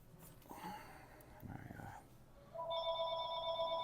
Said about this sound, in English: hopefully the phone doesn't ring again